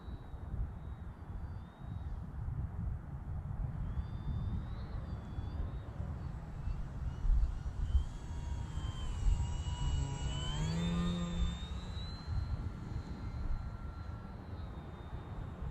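A Bushwacker aircraft comes in to land with a steady engine drone that holds throughout, and its pitch sweeps partway through. It is heard outdoors at moderate distance with no talk.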